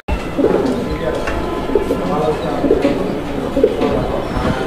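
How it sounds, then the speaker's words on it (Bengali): A pair of cream bar exhibition pigeons coo in soft, repeated rolling phrases close by, over a constant murmur of background noise. "আপনারা এই মুহূর্তে যে কবুতরের পেয়ারটা দেখতে পাচ্ছেন"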